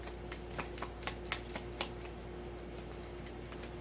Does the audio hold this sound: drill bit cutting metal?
no